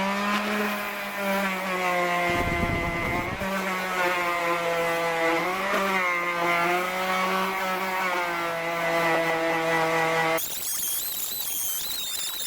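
Power sander working a mag rim with 120 grit sandpaper, a loud steady whine with strong harmonic tones, a brief rougher burst early on and a shift to a higher pitch near the end.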